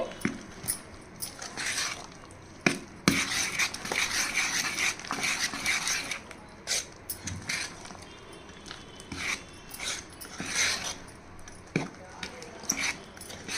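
Urad dal bonda batter seasoned with salt and cumin is stirred by hand in a bowl, giving close, wet, squishy churning with scattered clinks of a spoon against the vessel in a steady, uneven rhythm.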